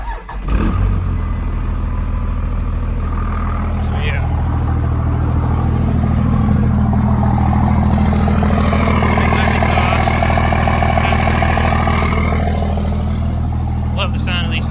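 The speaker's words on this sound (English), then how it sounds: "So we'll get a startup of how it sounds with the turbo silencer on it." A 1999 Dodge RAM 2500 with a 5.9 Cummins diesel and a turbo silencer fitted starts up, then settles into a loud, steady, close idle with a low rumble and faint whine, with a voice talking over it.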